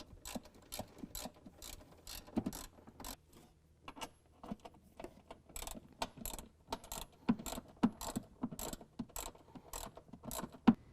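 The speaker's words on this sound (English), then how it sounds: "We're going to tighten down our 2 sidewall bolts as well with a 13mm." A ratchet with a 13mm socket tightens the sidewall bolts of an S&B cold air intake on a 2017 Ford F-250 Powerstroke. Quick, sharp clicks come up close in bursts with brief pauses between them.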